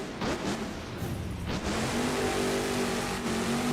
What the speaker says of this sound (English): Drifting that truck around, getting hard into the throttle.